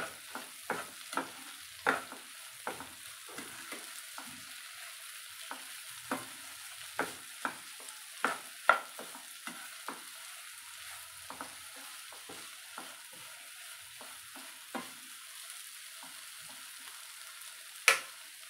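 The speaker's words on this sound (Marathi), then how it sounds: "2 मिनिटं दोडके असेच फ्राय करून घेऊ" Ridge gourd fries in a pan with yellow gram beans, a soft steady sizzle broken by repeated sharp clicks and scrapes of a spoon stirring, fairly quiet and close, with no talking.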